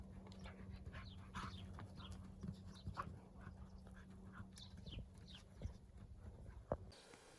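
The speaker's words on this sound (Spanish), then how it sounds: "Aquí tenemos a mis perros que no me dejan ningún día solo" Dogs pant and shuffle close by in a vineyard setting where table-grape vines are being pruned, with soft whimpers and scattered clicks of paws over a steady low hum.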